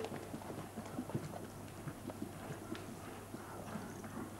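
Horse hooves on an arena track during a riding lesson, a steady, soft clip-clop of hoofbeats in a continuous rhythm, muffled beneath broad background noise with no voices.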